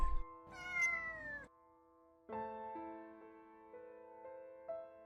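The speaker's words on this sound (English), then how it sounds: "The kitten continued to cry" A kitten meows twice, nearby and clear: a short rising cry, a brief pause, then a longer, drawn-out wail.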